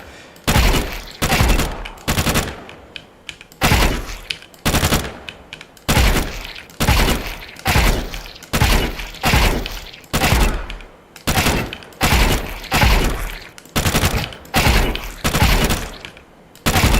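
Repeated gunfire bursts in the Valorant video game, loud and close, firing in steady short volleys roughly every second with brief gaps between, no talking over them.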